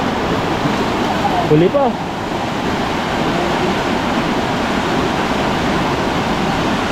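Water rushes out of a dam release in a dense, constant roar, loud and close, while a voice speaks briefly over it.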